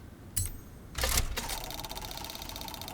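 Computer keyboard keys are tapped while playing Forza Horizon 4, with a few sharp clicks and a brief cluster of rapid taps, followed by a steady background hum from the game.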